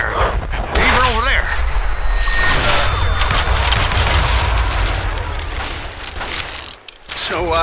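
Rapid gunfire from a rooftop shootout in the Western video game Call of Juarez: Gunslinger, dense and loud bursts running almost continuously under a voice.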